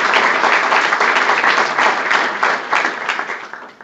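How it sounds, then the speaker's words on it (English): An audience claps steadily at a county government address in Wilson County, Tennessee, the dense, even applause staying loud throughout with no talk over it. "Please give Mr. Larry a round of applause."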